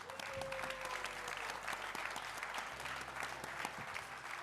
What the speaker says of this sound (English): So round of applause for our world champions